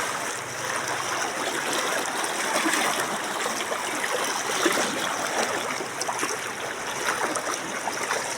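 Cold, clear mountain stream running over white rocks in the early morning, a steady close rush and trickle of water filling the whole stretch without voices.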